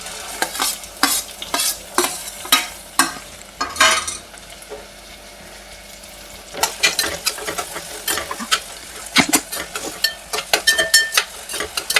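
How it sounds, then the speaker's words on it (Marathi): Finely chopped onion goes into hot oil for a chicken curry and is stirred, scraping strokes of a spoon against the pan coming in irregular bursts over a low sizzle, with a quieter stretch in the middle. "त्याच्यामध्ये हा बारीक चिरून घेतलेला कांदा टाकून घेते"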